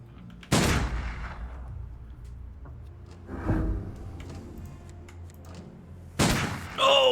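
Gunfire in the tactical game Urban Strife: a sharp, loud shot at the start, a softer report midway and another loud crack near the end, separated by quiet ambience.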